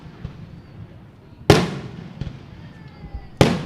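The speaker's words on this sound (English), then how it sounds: "We're going to fireworks. Firework mode, quick." Fireworks bursting at an outdoor paddling race event, two loud sharp booms with crackling tails about two seconds apart plus a smaller pop between, over faint background crowd noise.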